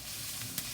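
A splash of wine sizzling in a hot pan while cooking aboard a boat, a steady close hiss with a brief sharper spit near the end and no talking.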